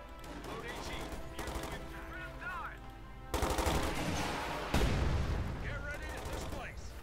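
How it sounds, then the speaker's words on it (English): Gunfire in Company of Heroes 2 during the Ardennes Assault campaign, with bursts of machine-gun fire and heavier booming shots at mid distance and faint shouted voice lines mixed in, the loudest volleys arriving in the second half. "Just shooting away there merrily."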